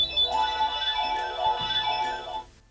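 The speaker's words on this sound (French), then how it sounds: "ce petit bouton jaune en fait des fois c'est la sonnerie de l'école" A school-bell ringtone plays from the yellow button on a Mattel Winx Club Alfea College playset, a loud, bright electronic chiming melody of repeated tones lasting a few seconds before cutting off.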